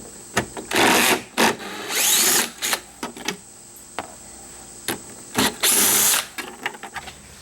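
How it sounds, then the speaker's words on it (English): Electric driver with an 8mm socket backing out tail light screws on a 2011–2014 Ford Edge, several loud close whirring bursts of about a second each, separated by short clicks and pauses, with no talk. "I'm using this electric driver with an 8mm socket."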